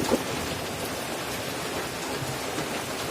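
Rain falls outdoors in a continuous, even wash of hissing noise at moderate level, without any talking.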